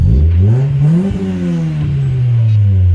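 A 1993 Honda Prelude SI engine revs up close, its exhaust note rising and falling through a loud, throaty rev before settling back to a steady drone.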